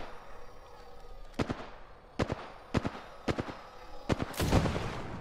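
Gunfire in a shooter video game, a few sharp separate shots spaced over several seconds with a denser burst near the end, moderately loud over a faint background.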